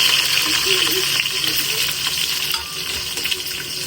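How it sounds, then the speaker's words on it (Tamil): Onions, large onions and green chillies sizzle and fry in hot oil, a steady broadband hiss with occasional stirring scrapes, close and fairly loud throughout. "வதங்கட்டும், வெங்காயம் கொஞ்ச நேரம் வதங்கட்டும்."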